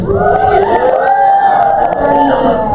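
An audience at an evening show at The Escape cheers, whoops and shouts, a loud burst of crowd voices with rising whoops layered on top.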